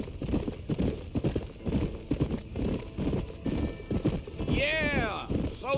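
Horse hooves in the Red Dead Redemption game beat out a quick, steady clip-clop at close range, and a high whinny rises near the end.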